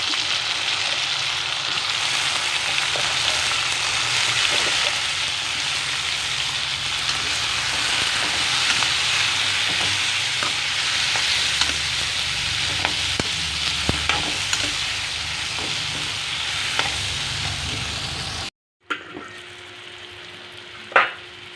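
Brinjal and masala fry in a pan on low heat, a steady close sizzle with scattered scrapes and clicks of a spoon stirring, ending in a brief quiet stretch with a couple of faint knocks.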